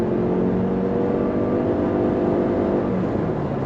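A Toyota RAV4 Prime, towing an A-Liner pop-up camper, accelerates uphill on its electric motors with a steady, loud whir and road roar that stays constant and close.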